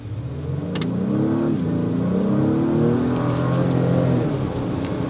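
A 2022 Acura MDX Type S SUV engine revs steadily as it accelerates from a stop, a loud, continuous mid-pitched drone that rises in pitch over about five seconds, heard from inside the cabin.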